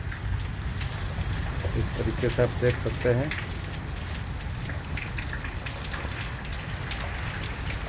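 Heavy rain driven by wind pours down steadily, a constant hissing roar with low rumbling beneath, while someone talks briefly over it.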